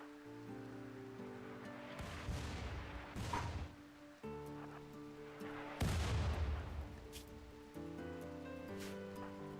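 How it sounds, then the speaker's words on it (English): Heavy mortar shell impacts in RimWorld, two big broadband blasts around two and six seconds with rumbling decay, booming over a steady layered game music bed. "Running through the friggin' swamp while we're getting mortared"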